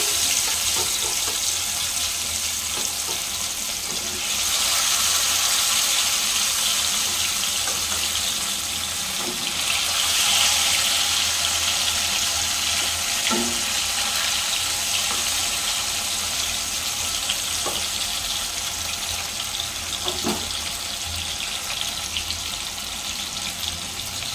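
Steady, loud hiss and crackle of fish frying in hot oil, Andhra style, a continuous broadband sizzle throughout with a few faint clinks, no voices.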